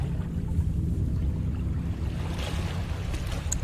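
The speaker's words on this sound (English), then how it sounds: "I like that water effect." Steady ambient rush of water flowing through a winding channel in the Dagon PC adventure game, a continuous low watery wash with soft surf-like texture and no voices.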